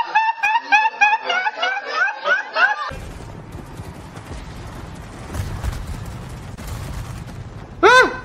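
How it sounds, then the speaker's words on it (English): Machine guns rattle in a chaotic video game battle, rapid bursts of gunfire over dense roaring noise after a few seconds of giggling voice, with a sharp loud burst near the end. "Machine guns fire!"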